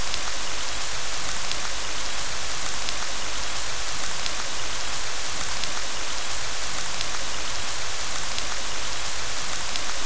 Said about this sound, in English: Did it only start raining in this one room?